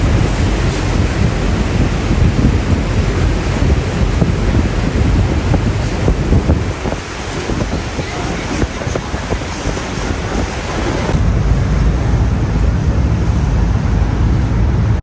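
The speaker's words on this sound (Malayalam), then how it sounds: "ആദ്യം ബോട്ട് അമേരിക്കൻ ഫാൾസിന്റെ അടുത്തുകൂടിയാണ് നീങ്ങുക." A tour boat cruises near the American Falls at Niagara Falls, with loud, constant rushing water and heavy wind buffeting the microphone, a thick roaring wash that dips briefly midway before surging back.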